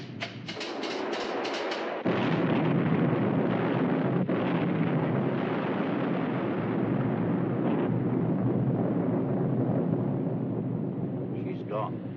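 A torpedo strikes a warship in a war film, bursting into a sudden heavy blast that rolls into a long, loud roar of rushing wind and churning water.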